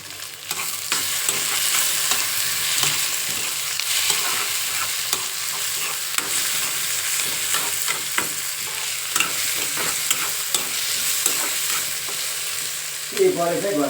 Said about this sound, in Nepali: अब टमाटरलाई हल्का कुक हुन दिनुपर्छ। कटक टक टक गर्दैछ।